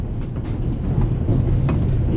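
Steady low rumble of a moving train in The Raven Remastered, a continuous dense clatter that holds level throughout the short stretch with no voices.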